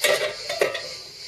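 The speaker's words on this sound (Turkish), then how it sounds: "Şimdi bir kapak yardımı ile diğer yüzünü de çevirebiliriz." A black-eyed pea mıhlama is flipped in a pan with the help of a lid, giving a couple of close clattering knocks of metal and cookware at the start and around the middle, then a quieter settling.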